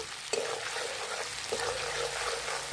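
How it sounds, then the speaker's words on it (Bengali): Spice masala with turmeric, dried red chilli powder and sugar frying in a pan, a steady close sizzle with two sharper stirring scrapes partway through. "মশলাটা আমি ভালো করে কষিয়ে নেব"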